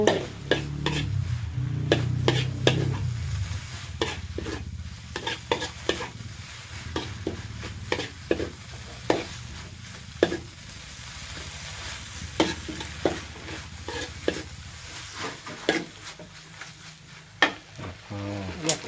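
Ripe jackfruit and egg being stir-fried in a pan, the spatula scraping and clattering in irregular strokes over a low steady sizzle, with a louder frying rush in the first few seconds.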